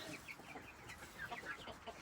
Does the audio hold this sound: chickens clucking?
yes